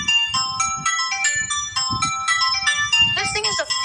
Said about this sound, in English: And the last ringtone here we got.